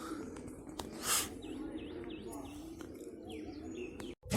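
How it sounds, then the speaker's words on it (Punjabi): Several pigeons coo softly in a loft while others shuffle and move about, a continuous low warble with scattered short chirps and a brief rustle near the end. "ਤੇ ਦੂਜੇ ਕਬੂਤਰਾ ਫਿਰਦੇ ਆ"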